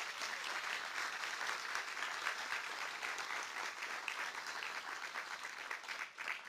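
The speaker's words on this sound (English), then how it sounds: "Let's give them a round of applause." Steady audience applause for student athletes at a school Founders event, even and sustained clapping from a crowd that fades slightly at the very end.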